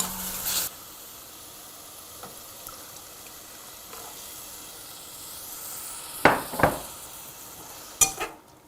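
Radish stir-fries with ginger powder in a pan, a quiet, even low sizzle punctuated by a few sharp scraping clatters of a utensil against the pan near the end.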